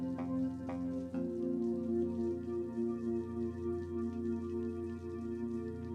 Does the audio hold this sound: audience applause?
no